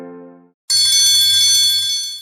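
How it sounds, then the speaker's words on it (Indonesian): An electric school bell rings to start class, a loud sustained ringing after a short tonal chime and a brief silence, heard alone. "bel masuk berbunyi."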